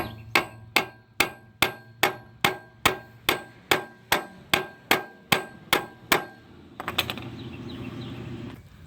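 A hammer taps a screwdriver into a gap during a 2014 Kia Soul 2.0L GDI engine teardown, giving about fifteen sharp, evenly spaced metallic strikes up close, then a brief duller rattle at the end.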